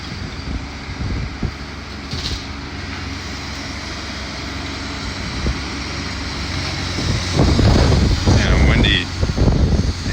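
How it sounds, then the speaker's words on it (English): Wind gusting into an outdoor microphone during a school building demolition, a low rumbling buffet that swells louder near the end, mixed with distant engine drone and a brief voice. "The windiness."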